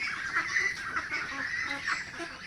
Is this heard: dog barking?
no